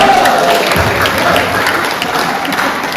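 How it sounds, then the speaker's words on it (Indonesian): Audience applause at a gathering of Portuni members from across Bali on a holy night, a dense, steady wash of clapping from a crowd that holds its level for the whole stretch. "Tepuk tangan."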